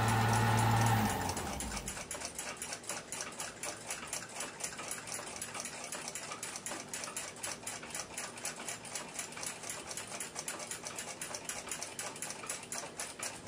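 Rapid, steady mechanical whirring from a lathe spinning clock pivots against polishing compound on wood, for an 1880s Seth Thomas mantle clock. It is continuous and fairly close, running alone without speech after a brief louder start.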